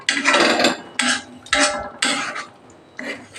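A utensil scrapes around a pan in steady rhythmic strokes, about two per second, while shahi paneer cooks down with sour curd; the metallic scraping is close and clear, with no talking.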